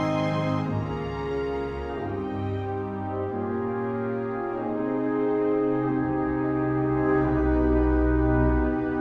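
Sustained brass chords play in a slow, full accompaniment with no melody on top, swelling slightly louder toward the end.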